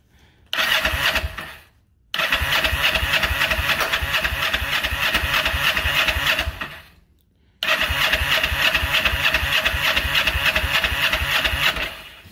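A 1994 Kawasaki Vulcan 500 motorcycle engine catches briefly and cuts out, then starts again and idles with a steady, close, even putter. It dies a second time and restarts into another steady idle.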